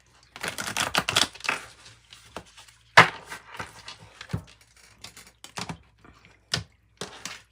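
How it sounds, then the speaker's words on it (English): A deck of tarot cards shuffled by hand during a reading, with bursts of close papery riffling and sharp slaps of cards knocking together in an uneven rhythm, with no talking. "And one more good shuffle."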